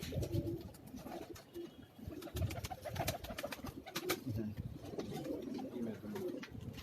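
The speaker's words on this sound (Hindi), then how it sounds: "ये एक और कबूतर है," Soft cooing from Shahjahanpuri pigeons on a Karachi rooftop, mixed with other bird calls and chirps, steady and close, with faint voices murmuring in the background.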